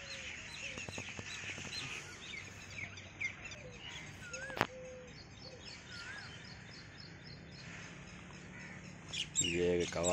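A crow calls in the early morning beside a canal, its caws mixed in among chirps from other birds against a busy outdoor background, with a sharp click partway through.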